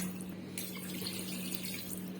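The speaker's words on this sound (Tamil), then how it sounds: "ரெண்டு டம்ளர் தண்ணி ஊற்றிக்கலாம்" Water from two tumblers is poured into a pressure cooker holding mutton, a close, steady splashing flow with a short pause partway through.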